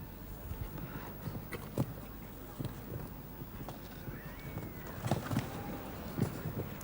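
Show-jumping horse's hooves striking the ground on the course at the European Jumping Championships in Donaueschingen, Germany, irregular thuds over open-air ambience with a faint bird call and a commentator talking.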